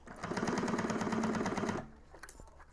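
A sewing machine runs a rapid, even burst of stitching along a curved bag lining seam for almost two seconds, then stops, leaving a few soft handling clicks.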